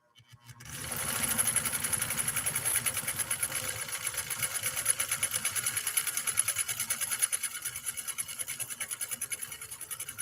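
A Nordic-Husqvarna Automatic sewing machine starts up after a second of quiet and then stitches a cam-selected decorative pattern in a fast, even, close mechanical chatter that holds steady to the end.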